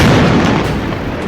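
A heavy bomb explosion gives a single loud, deep boom that fades into a rumbling decay, close and alone with no talking.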